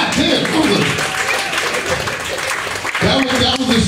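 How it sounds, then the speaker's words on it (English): An audience at a comedy show claps and cheers, a steady burst of applause lasting a few seconds, with voices calling out over the clapping. "Clap it up for this brother right here, man."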